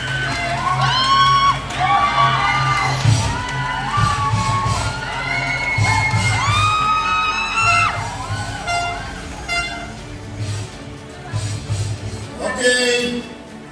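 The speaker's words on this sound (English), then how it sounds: "Please give him a round of applause." Crowd at a company anniversary year-end celebration cheers, whoops and claps for the chairman, with loud voices shouting and a horn tooting over a steady low hum, a voice calling out near the end.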